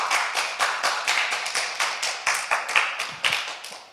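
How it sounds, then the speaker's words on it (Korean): A church congregation applauding steadily, many hands clapping in a dense, continuous burst that carries through without any voices. "박수 한번 보내주시면 감사하겠습니다"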